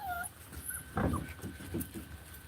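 A miniature Bernedoodle puppy whimpers and yips in short, thin cries over a low background hum, fairly faint and somewhat distant.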